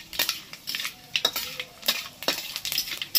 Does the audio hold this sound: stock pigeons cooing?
no